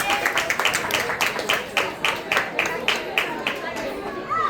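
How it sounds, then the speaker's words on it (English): An audience at the ISKCON Niagara Chariots Fest applauds the event decoration team with steady, rhythmic clapping, mixed with crowd chatter and voices talking throughout. "big round of applause for them"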